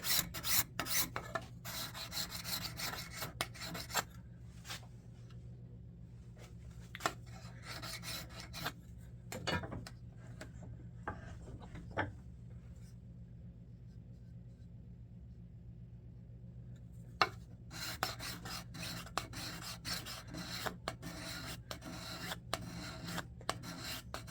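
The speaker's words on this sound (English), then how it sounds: "I think it's time to go to the card scraper" A card scraper rasps across a wooden spokeshave sole in bursts of quick, close scraping strokes, pausing for a quieter stretch in the middle before resuming, with a low background rumble.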